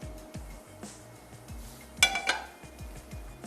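A frying pan handled while cooking Desi masala pasta, a series of light metallic clanks and knocks against cookware, with one sharper bright clatter midway, close by and alone.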